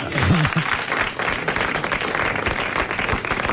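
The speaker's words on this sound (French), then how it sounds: "Applaudissez alors." A studio audience at a 1987 French television talk show bursts into sustained applause, dense clapping filling the whole stretch at steady loudness, with a brief voice near the start.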